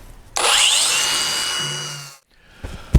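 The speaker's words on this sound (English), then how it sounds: "So I'm going to grind this away a little bit more and see what I got going on." A grinder works away Bondo filler on a Chevy/GMC truck door, a loud close whine lasting almost two seconds that then stops, followed by a few light knocks and handling clatter.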